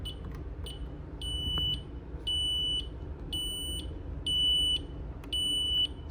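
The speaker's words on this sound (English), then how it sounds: "The external sounder is also connected." External sounder of an Ademco Vista 10SE alarm panel gives repeated shrill electronic beeps in regular bursts of roughly half a second to a second, over a low background hum, with no talking.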